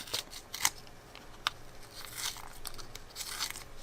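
Tape being peeled off a prototype pencil tube, faint crinkly tearing with a few sharp clicks and a longer rough pull toward the end, heard up close.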